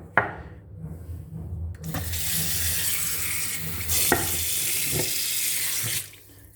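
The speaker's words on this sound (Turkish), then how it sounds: "durulduktan sonra suyunu süzüyoruz" Rinsed andız herb is drained as water pours and splashes steadily from a tap into a sink, loud and close, with a few knocks and clatters and no talk.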